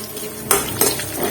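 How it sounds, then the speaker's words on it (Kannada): Almonds, cashews and poppy seeds are fried in a pan over a low flame. A metal spoon gives two quick clinks against the pan over a soft background sizzle in this brief moment, with no voice. "ಲೋ ಫ್ಲೇಮ್ನಾಗನ ಫ್ರೈ ಮಾಡ್ಕೋಬೇಕು ನೋಡ್ರಿ ಇಲ್ಲಾಂದ್ರೆ ಗಸಗಸಿ ಮತ್ತು ಎಲ್ಲ ಹೊತ್ತಿ ಬಿಡ್ತಾವು"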